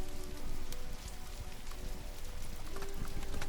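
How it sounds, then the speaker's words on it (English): Fire crackling inside an opened wood-burning stove, a quiet, close, continuous patter of small pops and snaps at irregular intervals, heard alone. "there's the crackle of fire"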